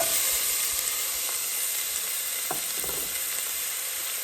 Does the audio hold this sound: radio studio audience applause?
no